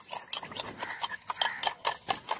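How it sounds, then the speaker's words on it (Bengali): A spoon stirs sugar into a glass while homemade Limca-style lemon soda is being mixed, giving rapid, light clinks and scraping taps in a steady quick rhythm, close and fairly soft. "খুব ভালো করে ঘেঁটে নেব।"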